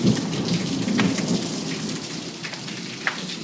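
A Good Friday thunderstorm in Miami pours steady heavy rain onto surfaces while low thunder rumbles beneath, loud and close throughout, with a few sharper drops and splashes near the end and no talking.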